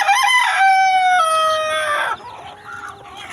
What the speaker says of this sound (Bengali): ভাবি এখানে অনেকগুলো মুরগি এখানে খামারের মতো করছে।